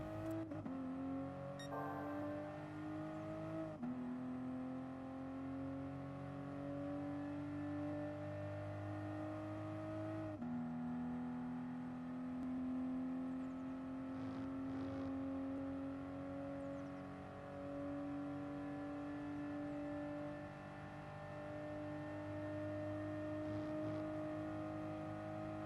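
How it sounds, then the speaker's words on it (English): Toyota GR Supra GT Cup race car in Gran Turismo Sport at Circuit de la Sarthe, its engine winding up at full throttle through rising gears, with a clear shift near ten seconds and a long sustained pull, steady and unaccompanied by talk. "you can start to fully accelerate"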